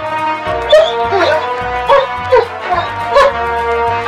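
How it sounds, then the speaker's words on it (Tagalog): A dog whimpers and gives several short, high yips and barks in uneven bursts, close by, over a steady low hum, while perched atop an open suitcase. "Ayaw umalis ng aso sa taas ng nakalatag na maleta."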